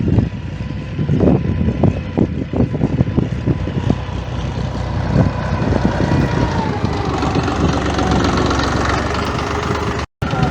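A tractor ploughs a field on a plot of land, its engine a steady, loud, close rumble with knocking, broken by brief thumps and clatter, with no speech.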